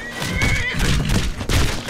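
A horse in Skyrim lets out a loud, close, wavering whinny while fighting, followed by heavy thuds and thumps of impacts over a dense battle backdrop.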